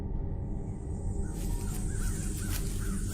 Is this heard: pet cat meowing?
no